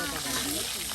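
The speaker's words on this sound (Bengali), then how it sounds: "একদিকে মাছ ভেজে নেওয়া হচ্ছে" Desi koi fish frying in oil give off a loud, continuous, dense sizzle and hiss close up, with no breaks through the whole moment.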